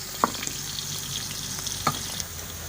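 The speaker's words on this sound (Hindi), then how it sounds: "तो अम्मी ने प्याज डाल दिया" Onions frying in ghee, a soft steady sizzle close by with a couple of brief utensil knocks, fairly quiet.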